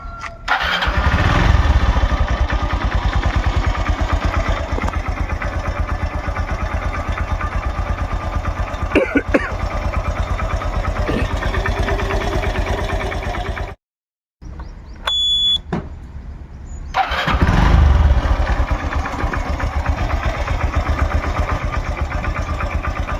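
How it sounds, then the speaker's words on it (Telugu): A second-hand Honda CD 110 motorcycle in good condition starting up and running, a loud close engine rumble that cuts out briefly, with a high beeping tone, then restarts and idles steadily. "ఇప్పుడు ఇంజన్ స్టార్ట్ చేసి చూపిస్తాను"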